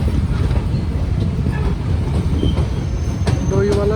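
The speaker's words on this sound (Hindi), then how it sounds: "मसूरी एक्सप्रेस अपने फर्स्ट हॉल्ट डोईवाला पर अराइविंग होते" The Mussoorie Express arrives at Doiwala station on the Dehradun to Delhi line, its wagons rumbling loudly and steadily nearby with brief high wheel squeals near the end, and a voice speaking over it.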